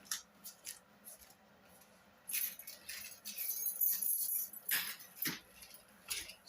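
A blade slicing open the plastic packaging of Bytech Bluetooth earbuds, heard as scattered crisp scratching and snipping bursts close by, with a denser stretch of cutting midway and a few sharp strokes near the end, no voices.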